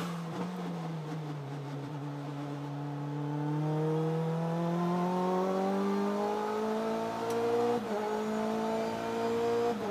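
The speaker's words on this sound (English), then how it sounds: "that completes a lap here in a Saleen S1 Cup car here at Portland International Raceway" Saleen S1 Cup race car lapping Portland International Raceway, its turbocharged engine loud and close, revving up steadily through the gears with rising pitch, a sharp shift break near the end before it pulls hard again.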